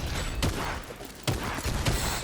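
Pump shotgun blasts in a video game, several sharp broadband bursts at irregular intervals about a second apart, loud and close, with no talk over them.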